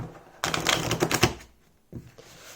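Two quick riffles of a shuffled Lo Scarabeo Marseille tarot deck, a crisp flurry of flicks, then a shorter burst after a pause.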